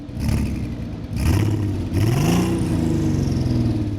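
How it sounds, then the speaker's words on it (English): The W12 twelve-cylinder engine of a Volkswagen Golf GTI W12 revs hard, its deep roar rising in pitch in two strong surges, loud and close, then holding a steady throaty rumble. "you just heard the first soundbite from the 12-cylinder engine"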